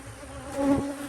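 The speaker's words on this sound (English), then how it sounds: "The bees right there on my lens" Honeybees buzz close by during hive splitting work at an apiary, a steady drone that swells briefly louder as one passes near, then settles back.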